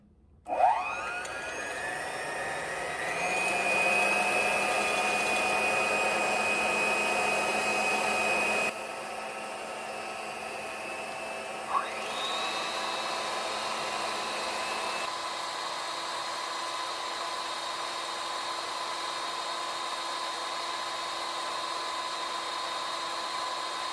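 An electric hand beater with dough hooks whirs up to speed and runs continuously while mixing a homemade moisturizer, a steady high motor whine that shifts pitch a couple of times partway through.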